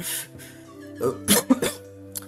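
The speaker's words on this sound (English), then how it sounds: "Still have a bit of a cough." A few short coughs close by, a cluster of harsh bursts near the middle over a faint steady background hum.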